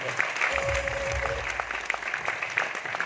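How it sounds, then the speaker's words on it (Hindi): An audience claps together in a dense burst of applause, steady then thinning out, with a faint voice briefly underneath. "एक जोरदार ताली होना चाहिए"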